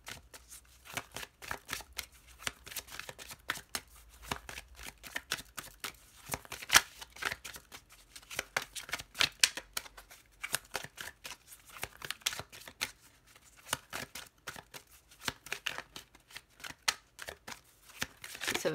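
Oracle cards are shuffled by hand in a long run of quick, crisp riffling bursts with brief pauses, close and fairly quiet, with no talking.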